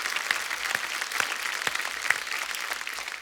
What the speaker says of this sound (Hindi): एक बार जोरदार तालियां अवरोध की पूरी टीम के लिए।